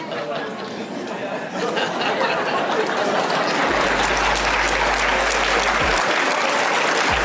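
A live audience at a motivational talk by Gary Vaynerchuk breaks into laughter and sustained clapping, a dense, steady wash of applause and crowd chatter that swells after the first second and holds loud throughout.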